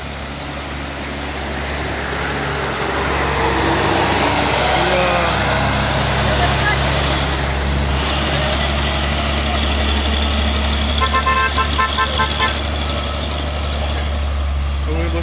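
Heavy truck engines rumble steadily and loudly nearby, with a faint intermittent beeping partway through.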